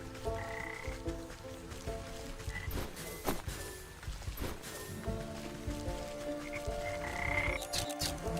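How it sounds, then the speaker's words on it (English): Frogs croak repeatedly in the video game Wytchwood, a run of close, rhythmic croaks spread throughout, layered with patter like rain and quiet game music. "Oh, there's a frog."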